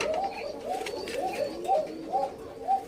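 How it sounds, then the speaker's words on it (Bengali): White koka pigeon chicks coo close by in a short series of about six soft, rounded coos at a steady, evenly spaced rhythm. "এটা হচ্ছে সাদা কোকা কবুতরের বেবি আর কি।"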